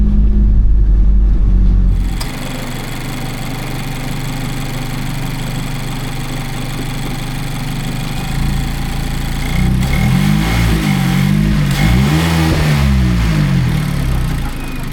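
A 2019 Mazda ND Miata, which may need a new engine mount, idles up close and loudly, steady and droning, then revs several times in quick rising and falling swells toward the end.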